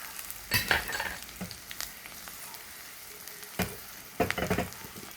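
Dried red chillies and curry leaves hit hot coconut oil with mustard seeds and shallots for a Kerala curd tempering, giving short bursts of crackling sizzle and stirring scrapes close by, with quieter gaps between.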